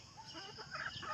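Hens cluck softly in a farmyard in rural Laos, a faint, uneven run of short calls heard alone at low volume with no talk.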